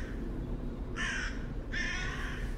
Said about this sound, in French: Il lève les yeux vers les corbeaux.